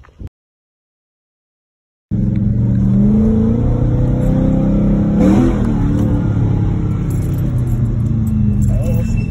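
A supercharged Hellcat engine revs hard and steadily after a brief silence, a loud, close, sustained roar with a rising surge midway.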